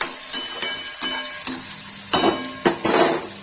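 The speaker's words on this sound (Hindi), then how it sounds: "सब्जी चला देंगे।" Onions frying in a pan while being stirred, with a constant bright sizzle close by and several distinct scrapes and clinks of the utensil against the pan.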